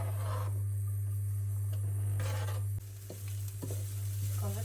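Onion tossed into a pan of melted clarified butter sizzles steadily in a close, continuous hiss, with occasional stirring scrapes and a faint low hum underneath.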